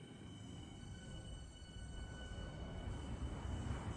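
A subway train in the Roblox-style rail game SCR rolls in as a faint, low rumble that builds steadily and gets louder, with thin high whining tones over it.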